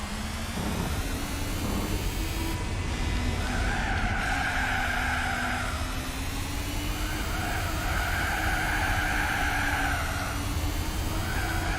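A car braking hard with tires squealing in the racing video game Gran Turismo 4, long skidding screeches over a steady engine drone.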